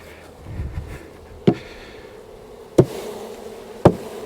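Honeybees shaken from a hive frame buzz in a soft, steady hum, broken by three sharp knocks spaced a second or so apart as the frame is jolted.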